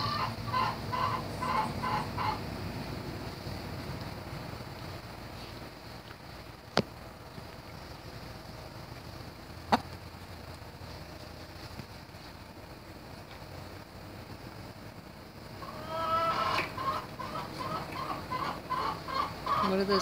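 A pet chicken clucks in quick repeated bursts at the start and again near the end, with quieter rustling and a couple of sharp clicks in between; no one speaks.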